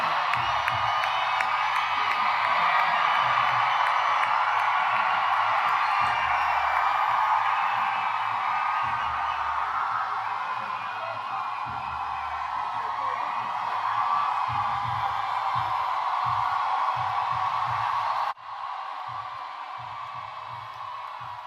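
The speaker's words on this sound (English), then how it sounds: "Now let's compare that to Vice President Kamala Harris's crowd in Phoenix" A large crowd at a Kamala Harris rally in Phoenix, Arizona cheers and whoops in a sustained roar, loud and continuous for most of the stretch before abruptly dropping to a lower level near the end.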